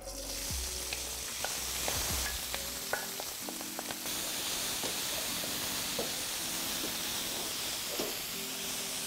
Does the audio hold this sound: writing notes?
no